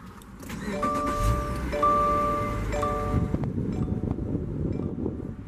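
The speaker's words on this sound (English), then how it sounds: "You can hear that beautiful six-cylinder engine note." A 2016 Subaru Outback 3.6R six-cylinder engine starts inside the cabin and settles into a steady idle, with chimes from the dashboard and a broad rumble throughout.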